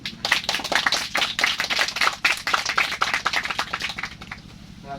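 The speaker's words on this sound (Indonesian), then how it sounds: "Tepuk tangan." A small audience claps steadily through a motivational talk, a dense run of sharp, close handclaps with a low hum beneath and no voices.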